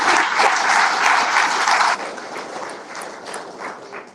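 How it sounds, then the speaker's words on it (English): Crowd applause for the champion of a Bassmaster kayak fishing tournament at Kissimmee, a loud sustained burst of clapping that drops to a lighter, thinner patter after about two seconds. "Give Wyatt Hammond a big round of applause for his domination."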